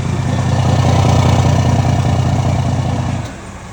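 Scania truck engine with an open, heavy-duty exhaust fitted with twin tips, a loud close deep rumble held steady and then easing off near the end, with no voices.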